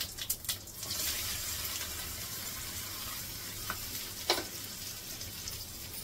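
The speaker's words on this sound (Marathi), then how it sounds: "आता ही जी भरलेली भेंडी आहे ही पहिली परतवायची" Stuffed okra dropped into hot oil with mustard seeds and cumin, giving a soft continuous sizzle with a few sharp spits and crackles near the start and middle, fairly quiet, no talking.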